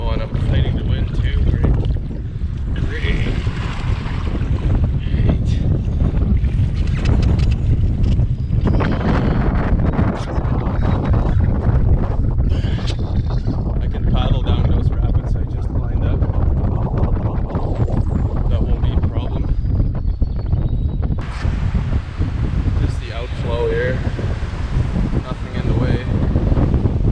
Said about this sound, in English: I'm fighting the wind too